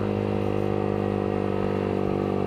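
Yamaha R15 V3 150 cc sport motorcycle fitted with a Villan aftermarket exhaust, idling with a steady, loud, close throbbing engine note that holds an even drone throughout.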